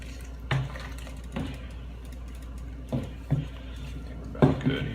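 A paddle stirs grain mash in a Blichmann all-electric brew kettle to break up clumps and dry grain, giving a few quiet, scattered clunks and wet sloshes over a low steady hum.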